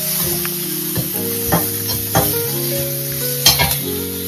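A tamarind mixture being sautéed and stirred in a pan at home, with a steady sizzle and frying hiss under repeated scraping stir strokes, close and fairly loud, no talking.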